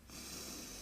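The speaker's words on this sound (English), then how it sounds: "One more." One more deep breath during a guided meditation, a short breathy rush of air close to the microphone, steady and alone without talk.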